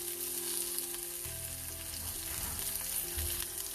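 Hing and curry leaves sizzle in hot oil with garlic for a dal tempering, giving a steady, fairly quiet frying hiss with a low hum underneath and no voices.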